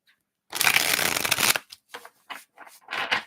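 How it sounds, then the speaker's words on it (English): A deck of reading cards is riffle-shuffled up close, one crisp second-long burst of flicking cards followed by several shorter bridging and tapping rustles. "Let me give these a quick shuffle."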